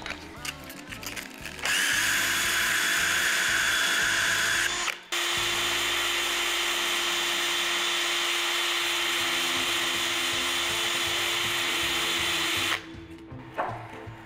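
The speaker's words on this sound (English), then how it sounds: "I'm just gonna spin this up on a drill" A power drill spins a part in place of a lathe, whirring loudly for a long stretch with a brief pause partway through, a steady high spinning whine close by.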